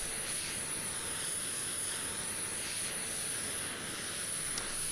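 A steady jet engine roar from an F-22 Raptor in the FSX flight simulator drones continuously with a thin high-pitched whine on top, unchanging throughout.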